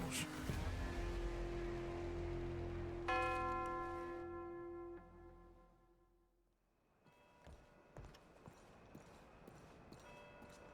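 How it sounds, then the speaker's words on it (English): Church bells in Saint Denis in Red Dead Redemption 2 strike with a sudden resonant tone that rings and slowly fades, followed by the clip-clop of horse hooves on the street. "the bells in Saint Denis started ringing"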